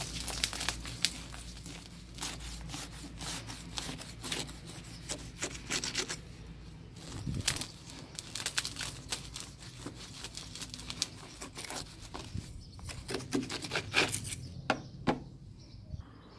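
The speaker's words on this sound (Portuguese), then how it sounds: "Vou pegar a faquinha. Vou cortar." A small knife scrapes and saws through fruit tree roots around the edge of a pot, giving irregular rubbing, crinkling and rasping strokes with occasional sharper snaps, close and fairly quiet.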